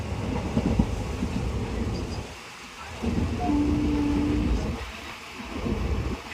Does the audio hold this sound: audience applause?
no